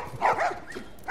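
Dogs bark in The Last of Us Remastered, giving a few sharp, close barks and yips in quick succession over a short span.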